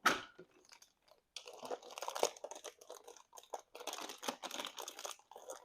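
Plastic packaging around a Brita water filter is torn and crinkled open in a kitchen, giving close, irregular bursts of crackling and rustling with short pauses between them.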